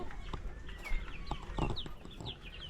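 Farm chickens, hens among roosters, cluck in a steady scatter of short, overlapping calls that sound close and moderately loud, with no talk over them.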